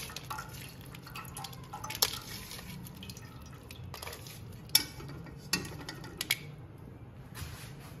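Soaked tamarind pulp being squeezed by hand gives off soft wet squelches and scattered drips of water falling into a pan, faint and irregular, with no voices.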